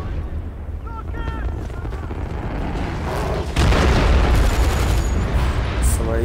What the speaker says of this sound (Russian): артиллерия.